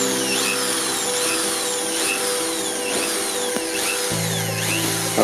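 A Doliz BA670 impact drill whines steadily at high speed drilling acrylic, its pitch shifting slightly near the end, with no voices.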